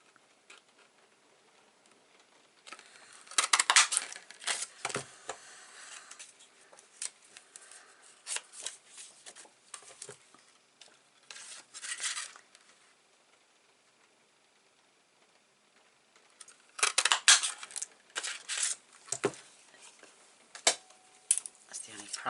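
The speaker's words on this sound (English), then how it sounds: "you just got to keep snipping away" Scissors snip through card pieces cut from a single patterned sheet, in bursts of close, crisp cutting with quiet pauses between.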